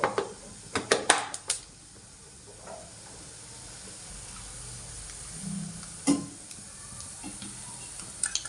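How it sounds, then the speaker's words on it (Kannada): Mustard seeds and cumin fry in oil, a soft background sizzle broken by a cluster of sharp pops and crackles early on, then quieter hissing with a few scattered late pops. "ಸಾಸಿವೆ ಜೀರಿಗೆ ಫ್ರೈ ಆಗ್ತಿದೆ."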